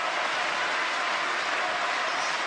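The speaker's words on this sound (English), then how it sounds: "you can see the Chinese coach on his feet, applauding Timo BOLL" Sustained applause fills a table tennis arena during a men's singles quarterfinal at the 2017 World Table Tennis Championships, crowd clapping for Timo Boll, dense and steady, fairly loud throughout with no break.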